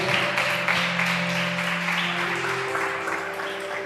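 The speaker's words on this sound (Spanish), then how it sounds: "Denle un aplauso al Espíritu Santo de Dios en esta hora." A church congregation claps during an evening Spanish-language worship service, a dense, steady wash of applause over sustained keyboard tones that carries on for several seconds.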